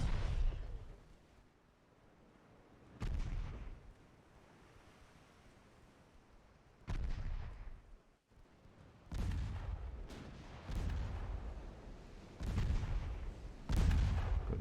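Naval gunfire from warships in Ultimate Admiral Dreadnoughts, heard as heavy booming salvos at irregular intervals, several in quick succession toward the end. A steady wash of sea and wind rumble runs beneath, with no talk.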